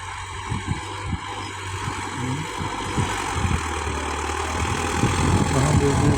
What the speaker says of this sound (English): The tractor is finishing there.